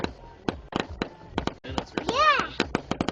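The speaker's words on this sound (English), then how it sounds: "These are pretty fireworks." Fireworks pop in a rapid string of sharp, fairly close bangs and crackles, with a rising whistle in the middle, while a child and an adult talk between the blasts.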